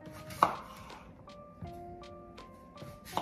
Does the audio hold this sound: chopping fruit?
yes